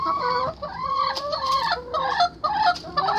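A large red hen clucks loudly and close beside the nest, a series of repeated throaty clucks and short calls with brief pauses between them.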